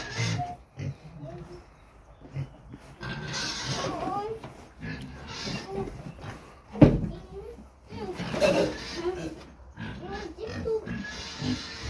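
Pigs grunt at a farm during feeding time, while people talk nearby. Irregular snorts and grunts are mixed with a sharp knock or slam partway through.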